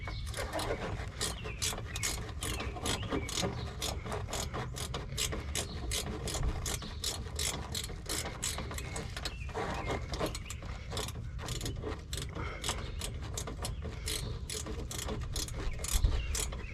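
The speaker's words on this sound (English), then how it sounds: "I'm right now I'm stripping the bolt." A ratchet turning a bolt during condenser coil replacement on a 2003 Toyota Camry, producing steady, rapid clicking throughout, up close and moderately quiet.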